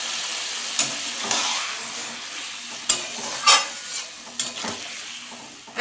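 Onion-paste water goes into sautéed fish curry with cauliflower and potatoes, followed by stirring: a soft simmering hiss punctuated by several sharp spoon clinks and scrapes against the pan, close by.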